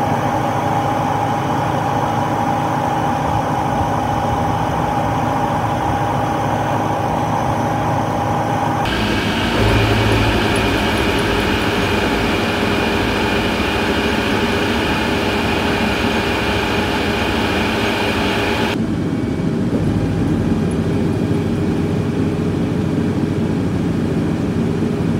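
An Arbos 4110 2x4 tractor engine laboring under load during a pulling-force test on the lower hitch, a loud, continuous droning roar whose pitch and texture shift abruptly twice, with no talk over it.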